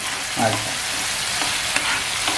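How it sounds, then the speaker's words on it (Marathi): Prawns sautéing in a pan give a steady close sizzle and hiss, with a few soft stirring scrapes and light taps of a utensil against the pan, no talking. "छान अशी परतून द्यायची जरा एक पाच मिनिटं तरी"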